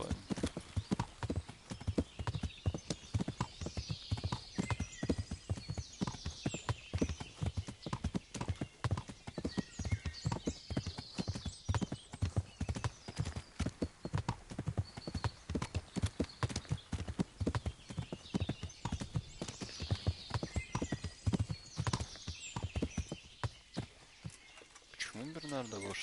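Horse hooves clop in a steady, even walking rhythm throughout, close and clear, in the medieval video game Kingdom Come; a faint whinny and voices can also be heard.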